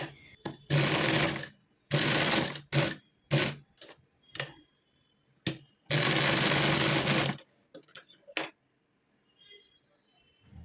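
A sewing machine stitches a lehenga latkan hanging in several loud, fast bursts of whirring needle noise with short gaps of near silence between them, heard close and alone.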